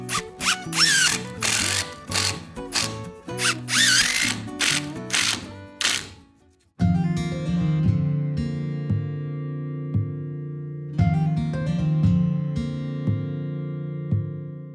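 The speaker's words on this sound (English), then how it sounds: "I'll then secure it from the top with long screws to avoid shifting" Long screws are driven by a power driver through a raised wooden floor, several short bursts of rapid clicking and whirring followed by longer steady whines of the driver biting into the timber.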